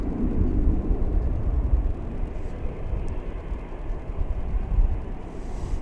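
Plane engine noise at DFW airport, a loud, steady low roar of a smaller jet that holds throughout and eases slightly toward the end, with no talking.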